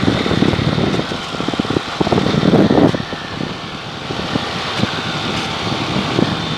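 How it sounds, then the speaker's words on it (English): A Kit Fox IV light aircraft accelerates for takeoff, its engine a loud, steady roar mixed with heavy wind buffeting on the microphone and no talk. "We're about to take off here."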